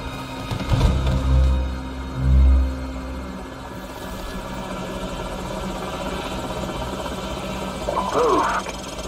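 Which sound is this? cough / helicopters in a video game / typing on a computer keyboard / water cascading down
helicopters in a video game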